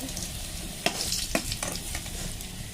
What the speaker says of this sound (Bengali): আলুগুলো প্রায় ভাজা হয়ে এসছে